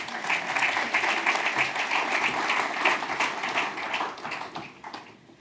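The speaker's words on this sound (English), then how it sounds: "let us applaud these 3 projects" Audience at a faith and belief community awards ceremony applauding three award-winning projects, a full, even round of clapping that holds steady before thinning out at the end.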